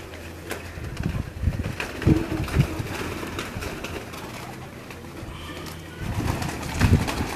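Pigeons cooing on a rooftop loft in Kasur, repeated throaty coos in bursts close to the microphone, with wind and faint outdoor noise between them.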